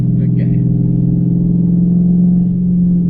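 A Dodge Charger 392 engine drones loudly and steadily at a low pitch, holding a constant rev close by with a faint voice briefly at the start.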